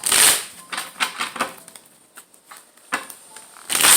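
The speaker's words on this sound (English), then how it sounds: "Let me shuffle these cards." A deck of tarot cards is shuffled up close, giving soft papery riffles and taps in uneven bursts, with a louder rustle at the start and at the end.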